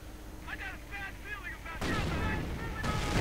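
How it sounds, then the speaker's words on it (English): A small battery of three mortars shells a triage center in a strategy video game, with two sudden heavy blasts of booming fire cutting in after a quieter stretch of background game sound. "the triage center is coming under heavy mortar fire from this small mortar battery of 3 mortars"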